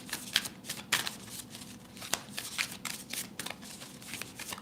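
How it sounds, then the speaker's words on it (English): A tarot deck is shuffled by hand in a quick run of crisp riffling and slapping bursts, up close, with no voices. "Spirit is like shuffle, shuffle, shuffle, and I'm gonna keep shuffling."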